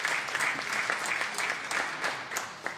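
A room at a commission meeting applauds a guest with steady, even clapping from many hands at moderate distance, lasting throughout without a break.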